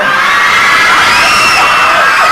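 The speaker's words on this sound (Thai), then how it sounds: "โอ้โหสาวกรี๊ด" A crowd of girls screams and cheers at a Thai celebrity charity auction for flood victims, a loud, dense, continuous shrieking roar of many voices that fills the whole stretch without letting up.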